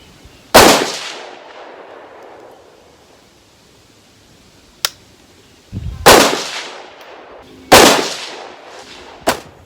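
Springfield Edge ATC Elite AR rifle fired at 100 yards, three loud, close gunshots spaced a few seconds apart, each with a sharp crack and a trailing echo, plus a couple of fainter clicks in between.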